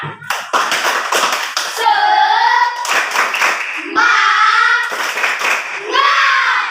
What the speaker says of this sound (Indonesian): Kalau masih semangat, ayo tepuk semangat.